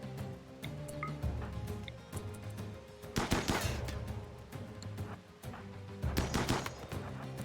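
Gunfire in the video game RimWorld comes in two loud bursts of rapid shots, separated by quieter stretches with scattered single cracks and a low game backdrop.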